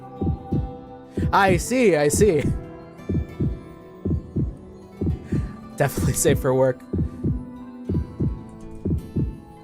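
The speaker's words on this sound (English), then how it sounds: "We're just gonna sit here and listen to this heartbeat for a second" Steady, looping heartbeat effect from a visual novel game, with regular paired thumps repeating throughout at close, moderate loudness, while a voice talks over it in two short bursts.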